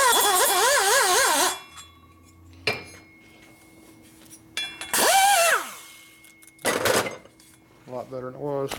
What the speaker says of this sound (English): Cut the V first a little bit. Now blend. And smooth, mainly just smoothing.